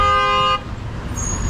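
A car horn blares in one loud, steady honk of about half a second, then cuts off to leave a low rumble of city traffic on a ride through Los Angeles.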